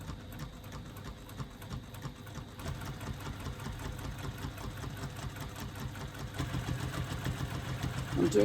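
Sewing machine stitching a quilt along marked lines, a quiet, rapid mechanical whirr with a steady needle rhythm that grows slightly louder toward the end.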